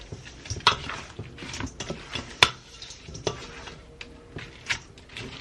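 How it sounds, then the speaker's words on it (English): Tongs tossing honey-soy glazed spice wings in a bowl, close, sticky clacks and wet slaps in an uneven rhythm with a few sharp metallic taps, no talk. "now just using my tongs, I'm just going to mix that around"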